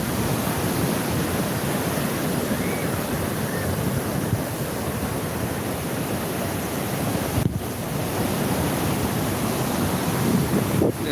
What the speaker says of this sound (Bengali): এখন জোয়ার চলতেছে আস্তে আস্তে পানি নামতেছে